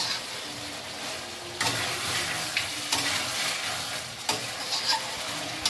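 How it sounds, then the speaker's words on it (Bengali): Desi chicken meat sizzling in hot oil in a pan with whole garlic cloves, loud steady frying hiss and a few sharper surges as it is stirred. "দেখুন মাংসটা কত সুন্দর কষে নিই।"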